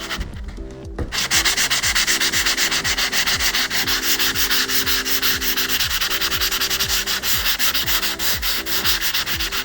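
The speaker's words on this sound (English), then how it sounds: "you can use some light sandpaper, 220 grit, preferably. But get us a light sand" Sandpaper of 220 grit rubbing lightly over a patched door, a close, loud rhythmic scratching of quick regular back-and-forth strokes that starts after a brief pause and runs steadily to the end.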